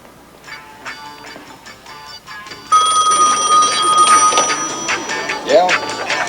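A telephone rings in an interior scene, a steady electronic ring with sustained tones that starts partway through after quieter tapping, fairly loud and close, with voices around it.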